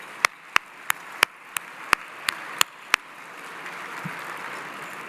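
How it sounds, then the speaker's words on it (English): Applause at a gala dinner comes through as about nine crisp, evenly spaced claps, close and distinct over a quiet room murmur. The claps stop after three seconds, leaving soft background noise. "Please join me in a round of applause for the J Street team."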